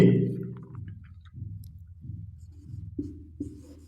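Marker or chalk strokes on a classroom board during a Hindi-language grammar lesson on clauses, a few scratchy strokes and taps spaced out over several seconds, close and fairly quiet, with no talking.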